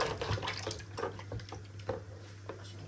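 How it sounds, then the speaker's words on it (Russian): Water pours into a container while vegetables are prepared in a dirty sink or bowl, with splashing and dripping that is close, irregular and fairly quiet, and no talking. "сюда тоже наливаю воду, потому что грязно."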